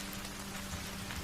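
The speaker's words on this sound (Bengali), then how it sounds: "বৃষ্টির ফোঁটা যেন এক মুহূর্তে ভারী হয়ে এলো।" Cartoon sound effect of heavy rain falling on a stormy night, heard as a faint, continuous, even hiss with no distinct drops or voices.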